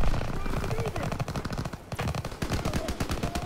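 Dense, rapid gunfire from a World War II shooter game keeps up throughout, with machine-gun bursts and scattered single shots in a loud, chaotic firefight. Faint voices are partly buried under the shooting.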